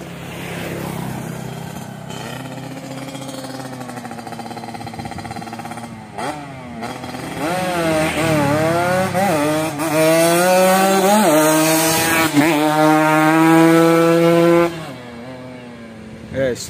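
A Yamaha RX King two-stroke motorcycle with a standard daily engine, custom Jogja-style build, revving hard in repeated rising and falling sweeps, loud and close, with the buzzy tone climbing high before dropping back.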